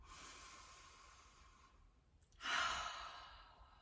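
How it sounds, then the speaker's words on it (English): Slow deep breathing during a seated relaxation exercise, hands on knees: a soft, long exhale, a brief pause, then a louder breath, close and quiet with no talking. "I'm just gonna start breathing in and breathing out"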